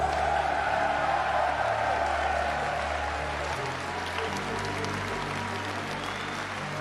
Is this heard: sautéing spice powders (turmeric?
no